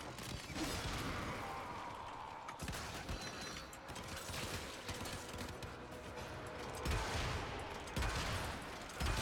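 A weapon in the video game Warframe fires rocks at an enemy, producing faint, rapid rattling bursts and clattering impacts that run almost without pause.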